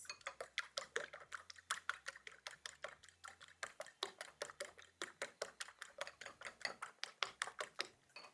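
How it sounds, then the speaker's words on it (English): Eggs whisked with salt in a bowl give a fast, steady run of sharp clicking taps, evenly rhythmic and close, with no talking. "Whisk my eggs."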